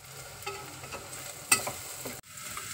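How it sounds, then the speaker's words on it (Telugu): Onions frying in a pan at the start of a mutton curry, a quiet, steady sizzle with a few soft stirring scrapes and knocks and one sharper clatter partway through. "మొదటగా ఉల్లిపాయలు వేపుకోవాలి."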